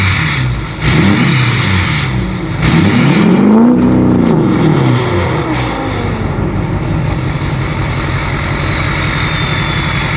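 A modified Isuzu D-Max engine revs up and holds a loud, steady roar that slowly swells and eases back, heard close with continuous exhaust noise and no talking.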